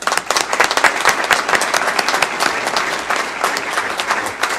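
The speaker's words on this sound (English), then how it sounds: "let's give a round of applause to May Creek educators" An audience at a school board meeting applauds educators, a full, lively round of many hands clapping with crisp individual claps standing out, sustained for the whole stretch.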